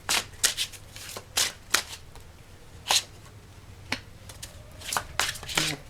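Oracle cards from an Old Ways Magic deck are shuffled and pulled, giving a series of short, crisp papery riffles and slaps in uneven bursts. They sound close and fairly quiet, with no talking.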